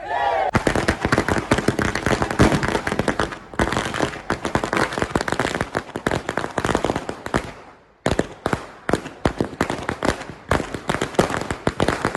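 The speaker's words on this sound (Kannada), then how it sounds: "ಮಂಗಳೂರು ಕಾಂಗ್ರೆಸ್ ಕಚೇರಿ ಎದುರು ಪಟಾಕಿ ಸಿಡಿಸಿ ಸಂಭ್ರಮಾಚರಣೆ ಮಾಡಿದರು" Dense, rapid crackling bursts of firecrackers going off continuously and loudly outside a Congress party office in Mangaluru, with a brief pause midway before another long string of pops.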